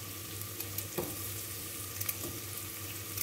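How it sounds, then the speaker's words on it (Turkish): Sliced carrots and other vegetables sauté in a pan for a Turkish borlotti bean dish, a steady, soft sizzle with a few faint crackles and no talking. "Şöyle bunları da güzelce kavuruyorum."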